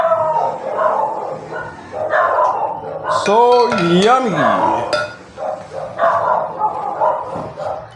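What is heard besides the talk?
dogs barking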